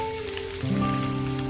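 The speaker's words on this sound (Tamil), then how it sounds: "இப்போது நான் ஒரு 1/4 கிலோ கேரட் எடுத்திருக்கேன், அதை வந்து ஆட் பண்ணிக்கலாம்." Finely chopped carrots tipped into a pan of frying onions and green chillies, with a steady sizzle that swells suddenly as the carrots land, then continues as a dense crackle.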